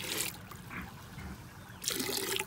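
Vinegar and water poured into a goats' drinking container on a farm, a brief splashing trickle that starts, fades, then surges again near the mic, with no talking.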